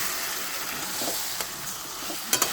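Washed chicken sizzles in a pan of garlic-ginger paste with a steady broad hiss of frying, a few soft stirring scrapes and two sharp utensil clicks near the end.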